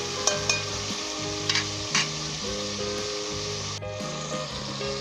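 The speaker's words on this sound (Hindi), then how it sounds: "और 2 से 3 मिनट के लिए मैं इसे भूनूंगा।" Ginger, garlic, onion and tomato sizzle steadily in hot oil in a pan, with irregular scraping and clanking of a stirring spoon over the continuous frying hiss.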